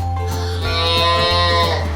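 A young calf moos loudly and close by in one long, drawn-out, harmonic-rich call that fills the whole stretch.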